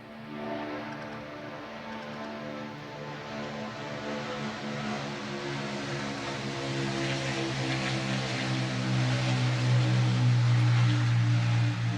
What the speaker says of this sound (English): I'm gonna wait till this little airplane pass.